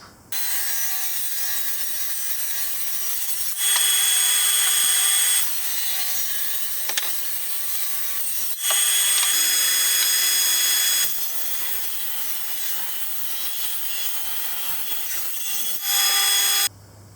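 Scrap mahogany and oak boards being cut to size with a saw, a steady loud rasping drone broken into several long passes with brief pauses and pitch shifts between strokes, close up with no talking.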